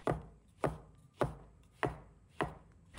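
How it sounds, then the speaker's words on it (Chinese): A knife slices washed shiitake mushrooms into thin pieces on a cutting board, six evenly spaced sharp chops about half a second apart, close and clear with no voices. "再准备几个洗干净的香菇，先把它切成薄片"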